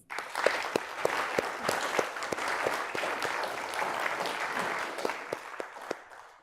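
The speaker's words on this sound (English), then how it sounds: "Let's give another round of applause to our wonderful teams." Audience applause at a startup demo day event, a sustained round of clapping with distinct individual claps standing out, lasting several seconds before fading.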